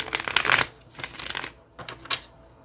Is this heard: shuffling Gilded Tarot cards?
yes